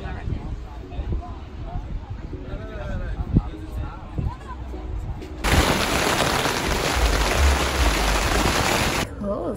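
Hail pelts down at an outdoor music festival, suddenly becoming a loud, dense hiss and clatter that lasts several seconds. Before it starts, people can be heard chattering.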